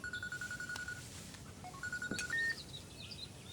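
A phone ringtone chimes in a repeating series of short electronic beeps, pauses briefly, then rings again with a rising melodic pattern, fairly close and clear.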